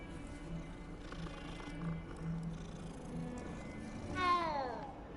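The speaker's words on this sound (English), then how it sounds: "Ooh, whose cat is that?" A cat meows once, fairly close and distinct, in the video game Hogwarts Legacy, rising over a faint background of game ambience.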